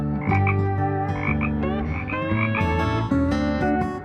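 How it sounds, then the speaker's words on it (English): Tree frog croaking in a loud, continuous chorus of repeated calls close by, with no voices over the sound. "tree frog"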